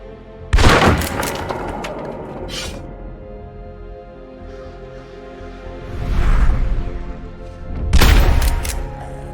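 Weighty gunfire from the video game Dream Cycle, including World War II style MP40s, modern submachine guns and bolt-action sniper rifles, comes as a few loud booming shots with rumbling tails between quieter stretches.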